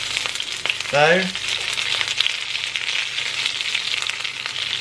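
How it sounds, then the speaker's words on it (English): Sausages sizzle and crackle steadily in a frying pan, a close, constant hiss with a brief rising squeak near the start and a single short spoken word over it. "these sausages aren't really ideal to cook in a frying pan"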